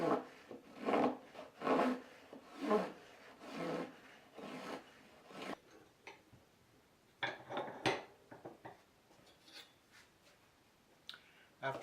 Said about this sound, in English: draw the block across the saw blade to make a curve all the way around